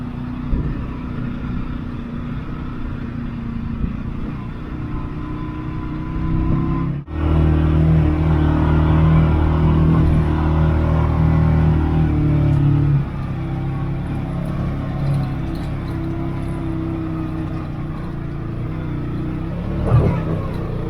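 Engine of a utility vehicle (not a sport utility) revving under load while its wheels spin climbing a steep hill, a steady close drone that swells louder midway, then settles back to a lower hum.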